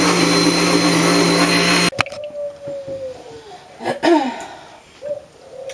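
A blender whirs loudly and steadily while blending a spinach smoothie, then cuts off abruptly after about two seconds, leaving quieter scattered sounds.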